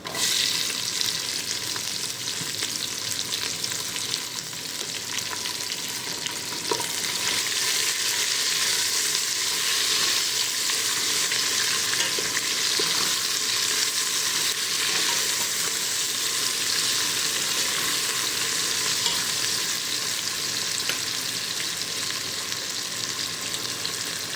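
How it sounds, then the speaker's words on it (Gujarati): Onions added to red-cooked ginger and spice masala for mutton curry, frying in a pan with a loud, dense, continuous hiss and sizzle, occasional stirring scrapes, close up, no talking. "આપણે હવે ડુંગળી નાખી દઈએ"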